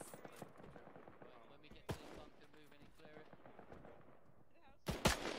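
Heavy 20 mm cannon fire in a beach landing battle video game, sharp loud bursts near the middle and end over a busy background of scattered gunfire and players talking.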